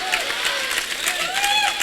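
Applause from an audience at a Hindi comic poetry gathering, a steady broadband patter of many hands lasting a couple of seconds, with a voice rising above it at times.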